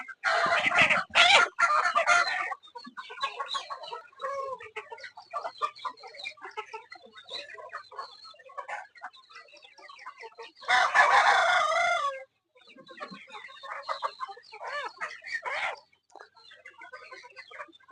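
A rooster crows loudly twice, separated by several seconds of busy, overlapping clucking and squawking from many Sonali chickens close by on a poultry farm.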